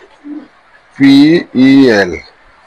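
Pigeons on a pigeon farm give two loud, close coos in a row, each swelling and then falling away. A faint, short call comes first, and no one talks.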